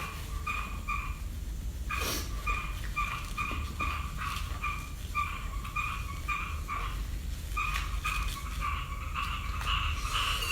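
Frogs croak in repeated pulsing bursts, fairly close and steady, sounding continuously through a quiet outdoor night background.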